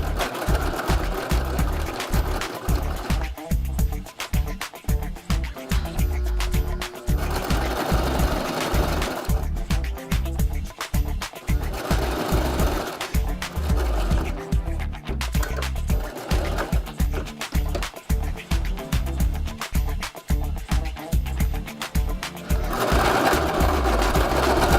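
A sewing machine runs in long, steady bursts while stitching a wedge into a thrifted jacket sleeve, its rapid mechanical chatter loud and close. Brief pauses break the runs, and no one speaks.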